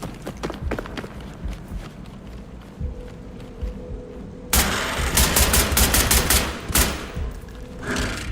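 Bursts of gunfire in the video game SCP 5k, scattered shots at first, then a loud, dense run of rapid automatic fire from about the midpoint onward.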